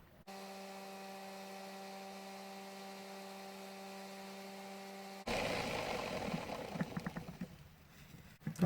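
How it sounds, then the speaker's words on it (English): A handheld rotary tool spins freely with no polishing paste, giving a steady whine with a few even tones that runs for about five seconds, then gives way to louder rustling and handling noise. "I will turn on the rotary tool, let it spin without polishing paste,"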